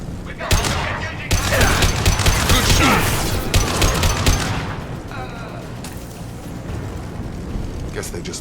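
Gunfire from Blue Suns mercenaries and Vorcha in Mass Effect 2, a dense loud burst of rapid shots for several seconds that fades into quieter mechanical clatter and background noise.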